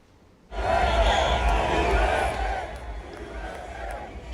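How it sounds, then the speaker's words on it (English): A large crowd chants loudly outside the McLaren garage on pit lane at the Formula One Miami Grand Prix, the roar rising abruptly and holding steady, then easing slightly. "Crowds were heard chanting USA as arrived outside the McLaren racing garage on pit lane."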